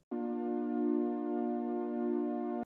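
A single sustained R&B-style synth note, bright and harmonically rich, holding steady at an even level for about two and a half seconds before cutting off cleanly, with no voices.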